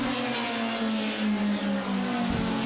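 Pro-4 Modified race cars roar around the Waterford Speedbowl oval, a loud sustained engine howl with a steady pitch that swells and dips slightly as they power through the turn, with no voices over it.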